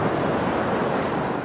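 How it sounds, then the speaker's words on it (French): Wind sweeping across a beach in Brittany during winter, with ocean surf rolling in as a steady, dense roar that fills the whole clip without a break. "Le vent souffle sur la plage de Cleutrouz en Bretagne."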